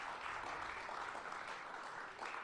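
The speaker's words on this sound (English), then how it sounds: "A round of applause." Applause from a podcast studio audience, a steady wash of clapping lasting a couple of seconds at moderate distance, fairly faint and continuous with no talking over it.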